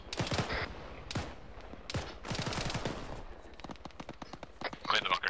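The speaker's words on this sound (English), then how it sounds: "Some kind of machine gun to the northeast." Rapid bursts of machine-gun fire from the northeast during an infantry training exercise, sharp cracks in uneven clusters with brief gaps, moderately loud and somewhat distant, with voices in the background.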